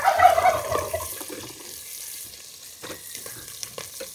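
Onions fry in a hot pan with a soft sizzling crackle, louder at first, then quieter with scattered pops and stirring clatter.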